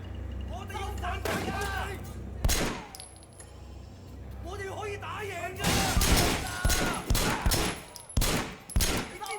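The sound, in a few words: gunfire from video game Sleeping Dogs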